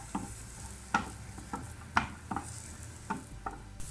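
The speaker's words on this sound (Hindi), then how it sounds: "2 से 3 मिनट तक हम इसको सौते करेंगे।" Chopped onion sautéing in oil in a pan, a steady soft sizzle broken by several sharp spatula scrapes and clacks at irregular intervals, close and moderately loud, with no talking.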